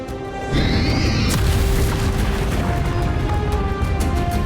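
A Confringo fire spell bursts against a dragon in the Hogwarts Legacy final boss fight, opening with a rising whoosh and then a loud sustained crashing roar that rumbles on.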